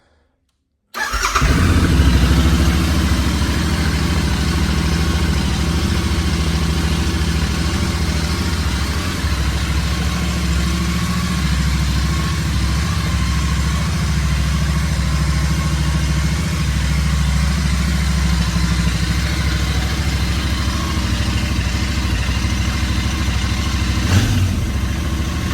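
A 2022 Royal Enfield INT 650 motorcycle engine fires up after a second of silence and then idles steadily and loudly at close range with an even, throbbing tone for the rest of the time.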